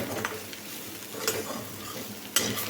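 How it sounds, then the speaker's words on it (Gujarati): Spiny gourd (kankoda) curry with spices stirred in a pan, a steady low sizzle with soft scraping strokes and a few sharper clinks of the spoon against the pan. "સતત હલાવતા રહેવાનું છે મસાલા ચડી ના જાય ત્યાં સુધી આપણે એ મિક્સ કરીશું"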